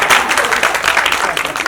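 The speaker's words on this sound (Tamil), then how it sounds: "இந்த கைத்தட்டல்கள் அனைத்தும் தமிழ்நாடு தெலுங்கு பீப்புள் அசோசியேஷன் தேவரகொண்டா ராஜு சாரை தான் போய் சேரும்." An audience claps in a brief burst of steady applause at an association event in Tamil Nadu, with a voice faintly mixed in.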